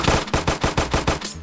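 Rapid automatic gunfire in a Minecraft Free Fire game mod, about eight loud, evenly spaced shots in a quick burst, no talk over it.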